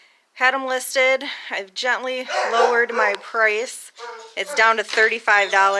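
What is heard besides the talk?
dog barking behind a half door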